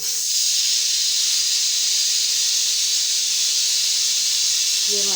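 A kitchen pressure cooker lets off steam in one loud, steady hiss that runs unbroken for about five seconds, with a faint low hum underneath and a short change near the end.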